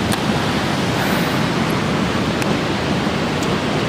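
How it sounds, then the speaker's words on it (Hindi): A river in Baisaran Valley near Pahalgam, Kashmir rushes past as a steady, loud broadband wash of flowing water, continuous and unbroken throughout. "अरे ये जो नदी बह जा रही है"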